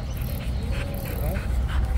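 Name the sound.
pitbull dog Babi panting during training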